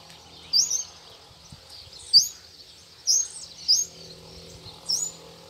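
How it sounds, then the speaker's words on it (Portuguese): Pale-breasted thrushes singing outdoors at dawn, several short bright phrases repeating at irregular intervals over a quiet background, moderately close and clear. "Bastante sabiá-poca aqui também."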